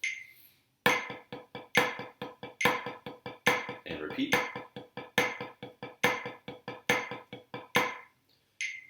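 Accented sixteenth notes played on a drum practice pad, a steady run of sharp taps with a louder accent on each beat, close and dry, with a short pause partway through.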